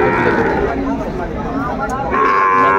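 Sahiwal cattle low with a loud, drawn-out moo at a busy livestock market where bulls and calves are traded, with crowd chatter and talking underneath.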